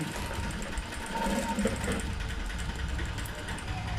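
A sewing machine stitches a blouse, running steadily with a continuous close mechanical whir and rattle for the whole stretch.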